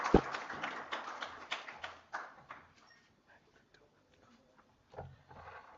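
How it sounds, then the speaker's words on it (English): A workshop audience claps and applauds briefly, then the clapping thins out and fades into quiet, followed by a faint thump and murmurs. "Another round of applause, a big one, to Professor Siepe."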